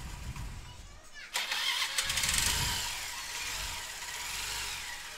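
A rebuilt Hero Maestro scooter engine cranks and catches out of frame with an abrupt onset, then settles into a steady close idle with a leaking oil pump nearby.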